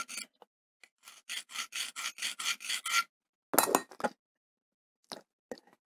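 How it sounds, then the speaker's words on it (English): A hand file rasps across the lock corner of a liner lock knife, with a run of about nine steady, even strokes followed by a few louder scrapes and light clinks, close up and alone. "what I'm filing is I'm trying to get that corner right there filed down, because that's the corner that it showed was contacting the blade first"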